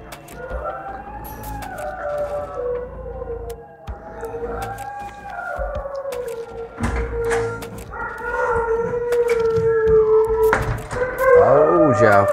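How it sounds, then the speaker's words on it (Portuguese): An American Bully dog howls in long, wavering, rising and falling cries, repeated several times at close range, with other background noise building toward the end. "o cachorro começou a uivar"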